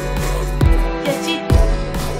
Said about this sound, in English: That's a horrible snare.